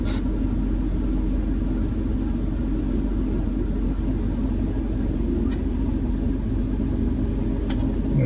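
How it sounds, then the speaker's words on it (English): A BMW 740 E38 idles, warm after a thermostat swap, with its auxiliary fan running: a steady, loud, close low rumble and broad whooshing roar that stays even throughout, with no talking. "I just heard the auxiliary fan come on."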